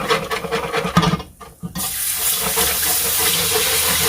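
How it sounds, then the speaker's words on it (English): Beef broth pours into a hot pan of browned Salisbury steak drippings, a steady broad liquid rush that starts after a brief pause and continues loud and unbroken to the end. "Now we're going to add our beef broth."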